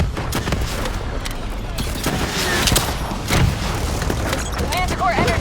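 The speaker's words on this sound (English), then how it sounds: "Javelin missiles incoming!" Call of Duty: Black Ops III battle with Javelin missile explosions and gunfire, a dense, continuous barrage of thuds, booms and crackling shots, with heavier impacts near the middle and end and voices talking over the din.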